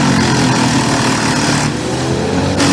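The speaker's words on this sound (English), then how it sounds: "This is the Pezzet TLC 1300, a powerful and precise machine down to the millimeter." A Pezzet TLC 1300 log cutting machine runs with a loud, dense engine roar, steady and close for the whole stretch, with a slight dip and swell near the end and no voices.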